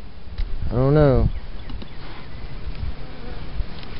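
Honey bees swarm over the frames of a hive opened for inspection after winter, a steady close buzzing throughout, with a short voice swelling up near the start.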